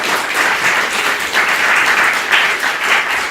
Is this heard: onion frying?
no